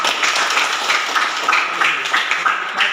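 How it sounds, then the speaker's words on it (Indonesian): Students in a classroom clap together in a brisk, uneven burst of applause that lasts a few seconds, close and fairly loud. "lu kasih tepuk tangan"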